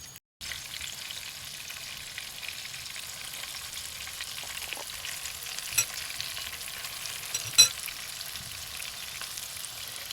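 Battered daylily flowers frying in hot oil, a steady soft sizzle with a couple of faint clinks, continuous and close, no talking.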